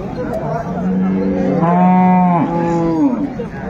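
Cows and calves of improved dairy breeds low and moo at a rural cattle market in Dinajpur, one long, loud, drawn-out bellow rising and falling close by over a murmur of market crowd noise.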